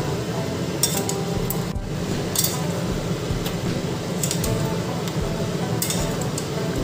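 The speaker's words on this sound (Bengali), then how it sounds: "আর একটু নেড়ে চেড়ে নিই" A utensil stirs salted, turmeric-spiced food in a cooking pot, giving a few sharp metallic clinks over a steady low sizzle and scraping.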